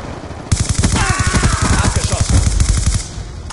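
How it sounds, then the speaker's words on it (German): Rapid bursts of automatic gunfire in the video game Call of Duty: Black Ops 2 crackle loudly and continuously, a dense rattling volley of shots with a brief swell partway through. "Das ist ein Schuss."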